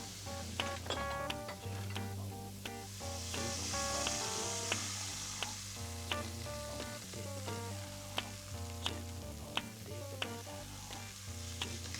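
Onions sizzle steadily in a hot frying pan, a constant crackling hiss broken by occasional clinks and scrapes of a utensil.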